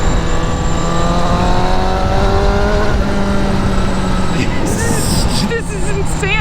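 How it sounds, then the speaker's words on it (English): A 2019 Honda CBR1000RR SP sportbike engine running loud and close under riding, pitch climbing through gears with a rising whine before a shift, while a rider talks over it. "What a beautiful, beautiful motorcycle from Honda"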